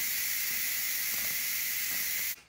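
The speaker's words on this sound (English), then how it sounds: "And the rest of the steam that is in there is coming out." Steam vents from the pressure release of a pressure cooker holding copycat Olive Garden chicken pasta, a loud, steady, high hiss that runs continuously and cuts off abruptly near the end, with no talking.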